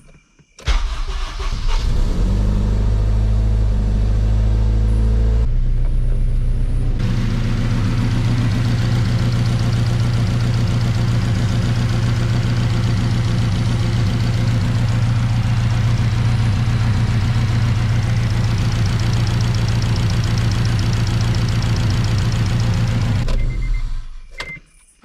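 A car engine cranks, catches and settles into a loud, steady idle in a garage after a Hybrid Racing tucked fuel line install, running on for about twenty seconds before shutting off, with no talking.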